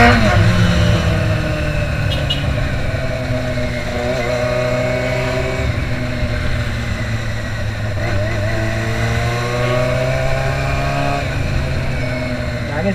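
A Honda CB400 cafe racer motorcycle, under repair, accelerates in a steady, loud engine drone that rises and shifts pitch through the gears, with a faint voice at the start.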